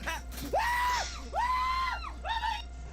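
Three high, drawn-out screams rise and fall in a scary video, each sustained for about half a second with brief gaps between them, loud and close.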